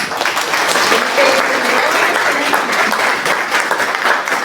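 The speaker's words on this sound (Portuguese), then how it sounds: "uma salva de palmas" An audience at a lecture gives a warm round of applause welcoming the speaker, dense continuous clapping that stays loud and even throughout.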